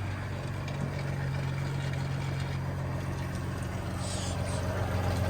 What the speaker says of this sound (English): just go ahead and push button start up that Yamaha powerful motor